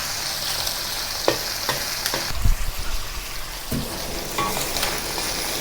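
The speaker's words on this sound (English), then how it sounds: "Then flip over and cook the other side." Beef slices fry in a hot wok with a continuous loud sizzle, broken by a few sharp clacks and a louder burst of spatter and scraping as the meat is flipped; no one speaks.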